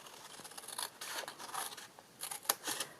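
Scissors snip through paper while cutting out a homemade gift bag, several short crisp cuts in bursts with brief pauses between them, close and fairly quiet with no talking.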